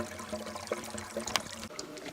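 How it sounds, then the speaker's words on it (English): Water gurgles and trickles through the pipe of a sanitary spring tapping on a hillside, a soft, close, bubbling flow with small irregular pops. "But you can hear the spring gurgling because we're sucking the water down the hill."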